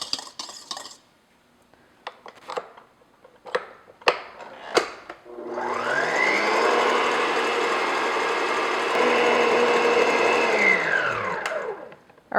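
Electric mixer beating egg whites with sugar to stiff, glossy peaks in a home kitchen; a few clinks and taps of the bowl come first, then the mixer whirs loudly and steadily for several seconds before stopping.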